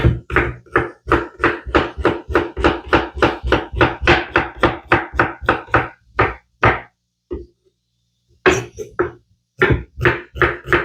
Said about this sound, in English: Get my shallots chopped up here.